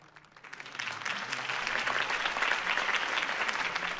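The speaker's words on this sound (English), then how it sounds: "If only Mr. Wayne, my campaign's largest backer, could have heard that applause" Crowd applause from a rally audience after a mayoral campaign speech in the Batman Telltale Series video game, a dense wash of clapping that swells in after a quiet start and holds steady and loud.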